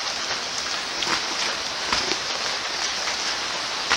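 Heavy rain shower in the El Yunque tropical rainforest, Puerto Rico: a dense, constant, loud hiss of falling rain with occasional louder drop spatters throughout.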